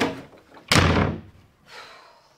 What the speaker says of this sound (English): Always slamming doors in men's faces.